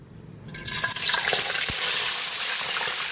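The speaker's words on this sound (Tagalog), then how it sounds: "Magpiprito na po tayo ng ating isdang pampano." Pompano fish hits a hot frying pan, and a loud, dense sizzle bursts up within the first second and then holds steady and close, with no voices.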